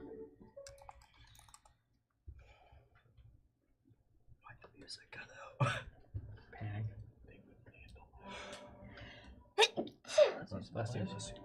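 A single quiet sneeze breaks into soft conversation at a tabletop role-playing game session, with people talking around it at low volume.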